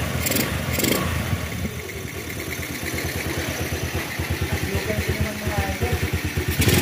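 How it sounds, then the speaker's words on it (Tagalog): A small motorcycle engine idles with a rhythmic, steady putter and a faint whistle from the carburetor running without an air cleaner, close by, after earlier overdue-oil-change repairs; someone talks over it. "Yung narinig nyo parang sipol, yan po yung sa carburetor natin dahil wala siyang air cleaner"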